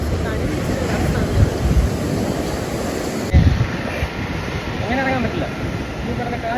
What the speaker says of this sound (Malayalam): ഇവിടെ കടൽ ഭയങ്കര റഫാണ്